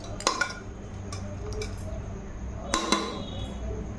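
A metal lid goes onto a cooker pot of goat fat curry with bottle gourd, making a pair of quick clinks, then a second pair of sharp metallic clacks a few seconds later over a quiet kitchen background.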